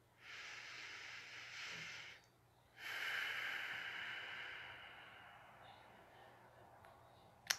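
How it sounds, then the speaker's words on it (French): Two slow, deep breaths during a calm guided meditation, a long airy inhale followed by a soft exhale, quiet and close with a pause between them. "Prends une grande respiration profonde."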